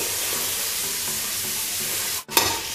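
Goat meat frying on a gas stove, a steady dense sizzle with stirring scrapes, briefly cut near the end and then resuming louder.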